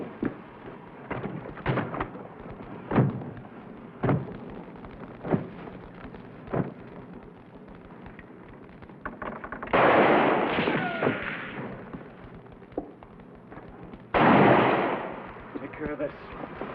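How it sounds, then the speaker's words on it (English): Gunshots crack out toward a wagon in an old Western scene, several sharp separate reports spread over the span, followed by two longer, louder bursts of blasting noise. "Just fire toward the wagon when I go."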